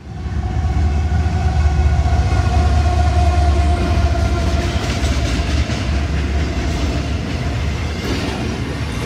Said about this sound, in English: enjoy this train